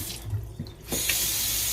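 Cold water from a newly installed kitchen faucet, switched on partway through and then gushing steadily into the sink at close range.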